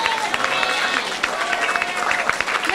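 At a fifth grade school awards ceremony, an audience claps in a lively, uneven patter, with scattered sharper claps standing out from the group.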